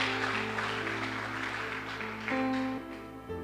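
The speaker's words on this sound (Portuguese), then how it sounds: "Aplauda o Senhor." Congregation applauding during a church service, a soft wash of clapping beneath sustained keyboard chords that shift partway through.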